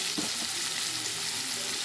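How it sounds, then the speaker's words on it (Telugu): Ginger-garlic paste hits a pan of frying chicken and moringa drumsticks, and a dense, even sizzle runs throughout, with a few low stirring bumps near the start. "కొంచెం మళ్ళీ కూరలో ఉడుకుతాయి కాబట్టి అల్లం వెల్లుల్లి పేస్ట్ వేసుకున్నాం."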